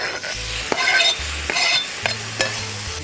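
Quartered tomatoes sweating with onions in a pan, a steady close sizzle broken by several sharp utensil scrapes and stirs, no voices.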